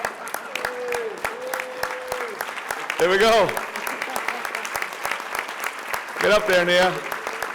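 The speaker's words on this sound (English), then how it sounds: "We're going to give them a quick round of applause" An audience at a Father of the Year Awards event claps for a speaker's three children as they climb onto chairs. Steady clapping runs throughout the moment while someone talks over it, and there are brief bursts of cheering.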